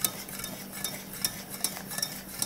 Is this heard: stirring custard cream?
yes